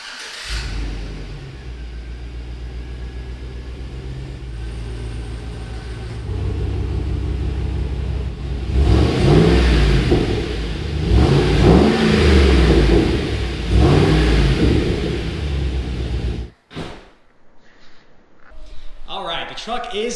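A truck drives back into a garage, its engine rumbling and revving steadily and close by for most of the stretch, then cutting off abruptly near the end, with people talking over it.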